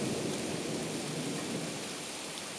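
A night thunderstorm: steady heavy rain pours down while low thunder rumbles continuously beneath it, loud and close throughout with no voices.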